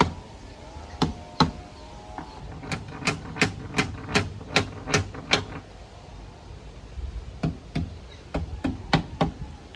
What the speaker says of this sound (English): lining it up and hopefully hammering it in.